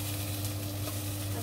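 Yesterday's cutlet reheating in a pan alongside tofu gives a steady, close sizzle with faint stirring scrapes, a continuous frying hiss over a low hum and no talk.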